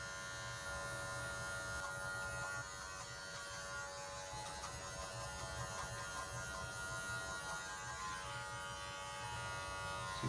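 Electric hair clippers fitted with a 1 guard, lever open, tapping and flicking at a hairline to fade it on a shaved head, buzz steadily and up close for the whole stretch with no talking.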